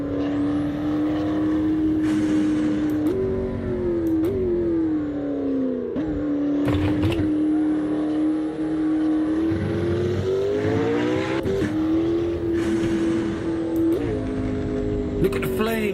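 A McLaren P1 engine revs in Assetto Corsa racing gameplay, a loud, sustained drone that rises and falls with gear shifts, with someone talking excitedly over it.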